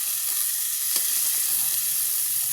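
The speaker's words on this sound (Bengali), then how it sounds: "হালকা ভাজা হলে ওর মধ্যে একটা গোটা টমেটো" A whole tomato sizzles in hot oil in a pan, a loud, steady hiss of frying with a brief spatter crackle partway through.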